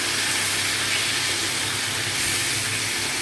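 Pumpkin and yardlong beans cook in a hot pan while being stirred together, giving a steady, close, unbroken hiss of sizzling with no talking.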